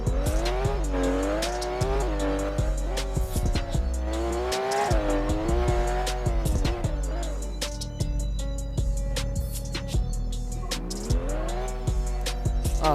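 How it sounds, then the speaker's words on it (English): Car accelerating in the Roblox game Vehicle Legends, engine tone climbing and shifting through gears with tire squeal, steady and loud throughout with no voices. "This car's acceleration is quite fast."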